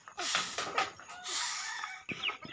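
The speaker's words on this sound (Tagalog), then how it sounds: "Inuubo yung mga malalaking broiler." Large broiler chickens on a farm cluck and cough close by, with a dense run of overlapping calls and a short pause before a few sharper calls.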